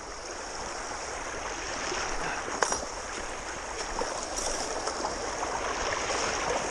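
Steady rush of water pouring through a Bazooka gold sluice box outdoors, a continuous broadband wash at close range with no talk over it.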